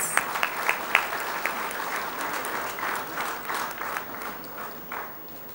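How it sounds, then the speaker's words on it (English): Audience applause at a business conference session, a dense wash of clapping from a crowd that starts with a few sharp claps and stays steady throughout. "let's have another round of applause for our wonderful sponsors"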